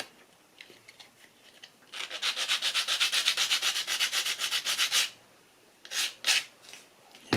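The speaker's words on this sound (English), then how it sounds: "I better sand that first." Fine abrasive rasps steadily against a small plastic hull part from a 1/48 Bandai StuG III model tank kit, a close run of rhythmic back-and-forth strokes followed by a few shorter passes.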